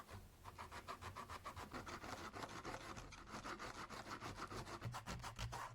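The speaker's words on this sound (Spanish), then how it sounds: "Lijar con un grano grueso, si es que tienes muchísimos grumos" Coarse sandpaper scrapes across a thermoformed mask in quick, steady back-and-forth strokes, a rhythmic gritty rasp close by and alone.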